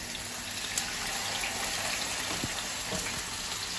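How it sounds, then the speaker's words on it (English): Lamb marinade drains off into a container in a steady, trickling pour with faint splashes and a few drips, close and fairly quiet, without any voices. "I'm draining off the marinade, but this marinade will go back in later."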